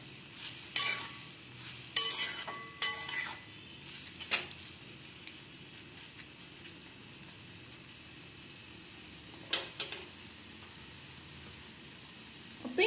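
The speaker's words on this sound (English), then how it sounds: "Let's stir." Sweet tomato chutney with turmeric being stirred in a pan, a few sharp scraping strokes early and again near the end over a soft, quiet simmer; nobody talks.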